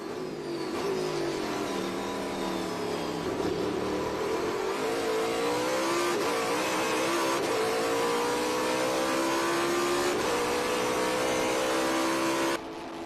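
A Trans Am race car engine revs hard around the Circuit of the Americas track, a loud, continuous roar that climbs and falls in pitch through gear changes for the whole stretch before cutting off abruptly at the end.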